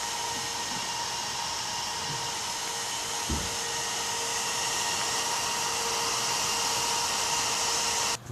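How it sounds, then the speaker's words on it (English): An AMD FX-8350 stock CPU cooler fan runs under Far Cry 3 ultra-settings load, producing a steady, loud broadband whoosh with a faint tonal hum throughout, alone and unchanging. "This is what it sounds like running FarCry 3 at ultra settings."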